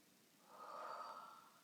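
A single slow breath, drawn and released during a calming sleep-focused breathing exercise, soft and close, swelling in the middle and fading away with no talk over it.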